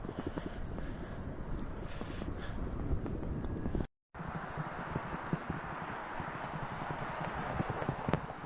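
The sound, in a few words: wind blowing outdoors at an airfield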